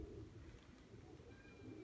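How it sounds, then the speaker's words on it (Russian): A pigeon coos softly, its low, throaty murmurs faint and repeated over quiet background noise, with no talking. "Это тот голубь, который недавно прилетел."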